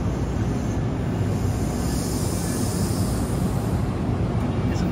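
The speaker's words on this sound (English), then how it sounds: "it's 4101 on the Hackettstown train" NJ Transit train 4101, the Hackettstown train, rumbles through Summit station in the evening rush, a loud, close, continuous roar of wheels and engine with a faint high squeal above it.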